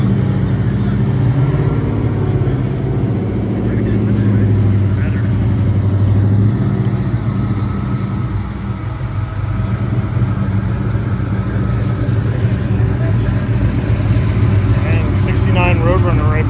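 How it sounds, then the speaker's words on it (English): A loud 1968 Dodge Coronet Mopar muscle car rumbles and revs at a Goodguys car show parking lot, its deep throbbing engine constant and close, with people talking over it. "let's get some screaming loud Mopars here"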